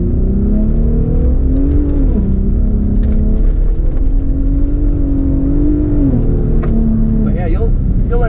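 A Ford Raptor truck runs in rear-wheel drive on an offroad rally track, its engine a steady, loud drone that rises and falls in pitch under continuous cabin talk.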